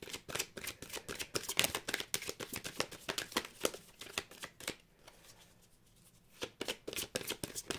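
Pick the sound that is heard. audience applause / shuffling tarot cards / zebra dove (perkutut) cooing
shuffling tarot cards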